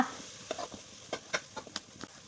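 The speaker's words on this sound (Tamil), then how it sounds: "கிண்டி கொடுத்து வதக்கிக்கோங்க" Masala being stirred and sautéed in oil for a black chickpea gravy: a soft sizzle under irregular scraping and clinking strokes of a spoon against the pan, close and fairly quiet, with no voices.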